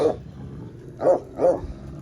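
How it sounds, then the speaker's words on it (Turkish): A large dog, 87 cm tall and four to five years old, gives three loud nearby barks, one at the start and two close together near the end, with quiet pauses between and no voices. "87 santim bir köpekten bahsediyoruz"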